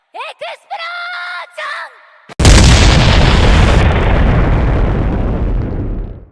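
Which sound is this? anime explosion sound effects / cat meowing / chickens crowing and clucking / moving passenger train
anime explosion sound effects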